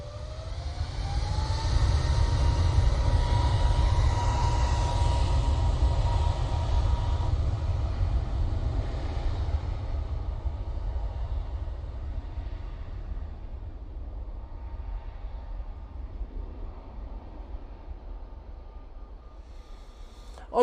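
An Air Canada airliner rolls past at Manchester Airport, a broad low engine roar that builds early, holds, then slowly fades into the distance.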